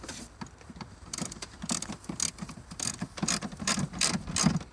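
A ratchet runs bolts down on a 2012 Buick Enclave during an oil and filter change, with quick bursts of close, sharp metallic clicking repeating in a steady rhythm.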